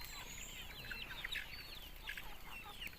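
Chickens cluck softly while eating fermented banana feed, scattered short calls over a low, steady background, fairly faint and distant.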